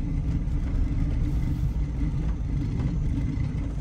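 A turbocharged Chevrolet Tahoe drives along a street, its engine giving a steady, loud, low rumble heard from inside the cabin with no voices.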